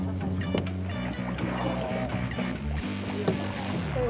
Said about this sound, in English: Use the paddle.